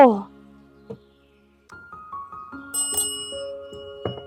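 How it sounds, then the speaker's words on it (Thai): A small bell rings once with a sharp, bright ding at the start and then decays. A scatter of softer tonal chimes and a voice follow more quietly. "ทำไมต้องกดกระดิ่ง"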